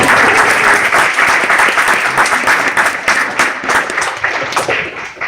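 A large crowd at a high school graduation ceremony applauds continuously, dense clapping that stays loud and fades slightly toward the end.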